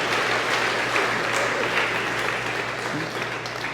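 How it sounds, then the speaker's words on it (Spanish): Steady applause from a church congregation during a Sunday Mass, filling the space evenly and continuing without a break throughout. "Un aplauso para ustedes, papá, que están aprendiendo que hay que educar a los hijos."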